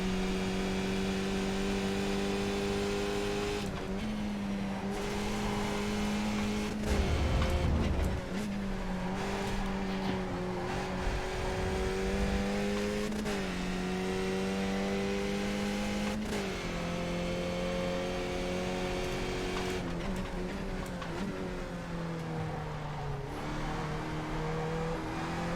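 The Skip Barber race car in the iRacing video game at Suzuka, its engine droning steadily close up and loud, pitch rising through each gear and dropping sharply at several shifts, with a brief rough rumble partway through.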